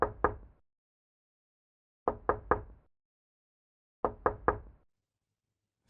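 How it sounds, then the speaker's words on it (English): Three slow knocks on a truck, sounding from inside the cab: a sharp knock at about 0 s, then a group of three at about 2 s and another at about 4 s, each crisp and close against silence. "three slow knocks from inside the truck"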